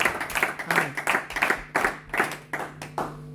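A congregation at a church service claps together in a rhythmic, fairly even beat, about a dozen sharp hand claps over a few seconds, moderately close.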